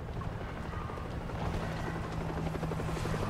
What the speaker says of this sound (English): Helicopter's landing across the river